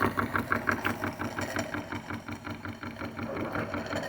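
PM Research No 3 model steam engine fired by alcohol and fed from a Roundhouse boiler, running with a quick, even mechanical chuffing and clatter, moderately quiet and close, steady throughout.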